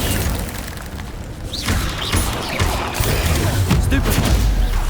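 Incendio fire spell cast in Hogwarts Legacy, a dense roaring burst of magical combat noise with booming hits and whooshes, continuous and loud, with a voice calling out spells amid the clash.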